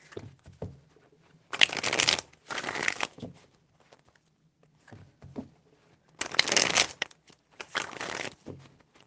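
Tarot cards being shuffled in four loud riffling bursts, two close together, then a pause with faint handling noises, then two more bursts.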